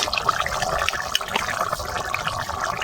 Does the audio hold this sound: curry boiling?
yes